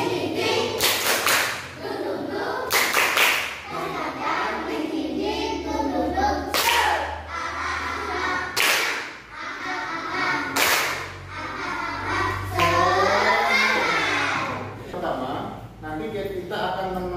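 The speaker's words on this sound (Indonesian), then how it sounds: "Coba tepuk semangat." Children in a religious studies class perform a rhythmic spirit clap, sharp bursts of unison claps spaced through the stretch, mixed with children's chanting and an adult voice, close and lively.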